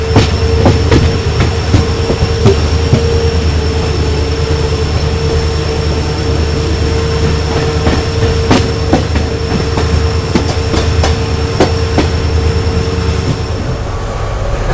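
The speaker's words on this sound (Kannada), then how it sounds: "ನಾಗರ್ಕೋಯಿಲ್ ಗಾಂಧಿಧಾಮ್ ವೀಕ್ಲಿ ಎಕ್ಸ್ಪ್ರೆಸ್ ಜೊತೆ ಕ್ರಾಸ್ ಆಗ್ತಾಯಿದ್ದೀವಿ ಕಾರವಾರನಲ್ಲಿ" The Nagercoil–Gandhidham Weekly Express crosses at Karwar station on the Konkan Railway, a loud, close, continuous rumble of rolling train cars with rhythmic wheel clacks and thin squealing tones over the whole stretch.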